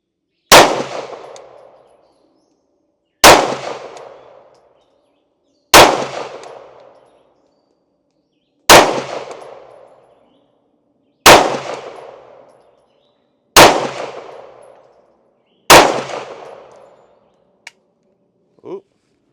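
Seven loud, sharp pistol shots from a Canik TTI firing Winchester 115 grain full metal jacket rounds, evenly spaced about two and a half seconds apart, each ringing out with a decaying echo, followed by a faint click.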